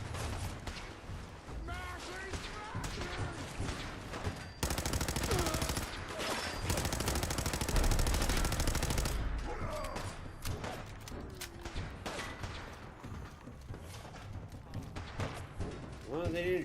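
Gunfire in a Fallout wasteland game, scattered shots and bursts throughout with a long dense stretch of continuous fire in the middle, mixed with game sounds and voices.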